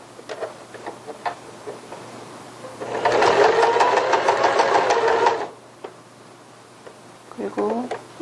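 A domestic sewing machine stitches a child's strappy sundress in one fast, steady run of about two and a half seconds, with quiet handling noises and a brief voice before and after.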